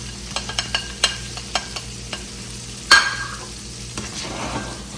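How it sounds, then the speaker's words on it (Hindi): Capsicum and onion stir-frying with crispy potatoes in a pan, with a scatter of sharp spatula scrapes and clinks over a steady close sizzle, then a louder burst of hissing as more goes into the hot oil. "वो डालेंगे और थोड़ा सा इसको करेंगे हम हल्का सा फ्राई।"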